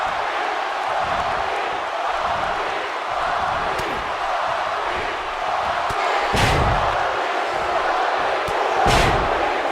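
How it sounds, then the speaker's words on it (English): A crowd roars in the wrestling video game WWE 2K18, a steady loud arena din with a couple of sharp slams and swells of cheering toward the end. "This crowd never doubted The Rock's ability to get back in this thing"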